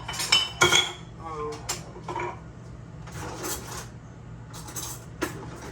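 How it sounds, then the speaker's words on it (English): A spoon scoops biscuit mix for a home Sunday dinner, giving a string of close, irregular metallic clinks and scrapes against the bowl, with quieter gaps between scoops. "We're going to spoon these in."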